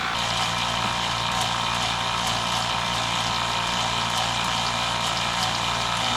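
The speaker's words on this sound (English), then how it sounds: "turn on the pump, and we'll watch and see what comes out, if anything." A pump runs steadily, pushing air and water through a cracked marine engine block via a hose, producing a loud, constant whooshing drone with a low hum underneath and no talking.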